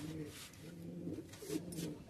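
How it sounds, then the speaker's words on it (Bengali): Madrasi high-flying pigeons in a loft give soft, low, repeated coos that sound close but quiet. "ম্যাড্রাস পায়রা। ম্যাড্রাসি পায়রা।"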